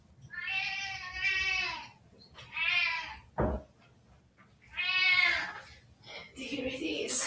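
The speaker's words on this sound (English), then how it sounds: "our cat is meowing" A pet cat meows three times nearby, with long, tonal, insistent calls separated by pauses. A short knock-like thump falls between them, and a rustling or muffled sound follows at the end.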